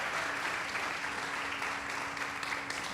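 Church congregation applauding during a Portuguese-language worship service, a continuous wash of many hands clapping at moderate distance, fairly soft and even for the whole stretch.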